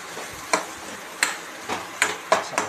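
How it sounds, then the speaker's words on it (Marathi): Mashed potatoes being stirred into frying chutney with turmeric in a pan, soft sizzling under a handful of spaced utensil scrapes and taps against the pan, close and fairly quiet. "आपण आता हे बारीक केलेले आलू याच्यामध्ये टाकून घेऊ"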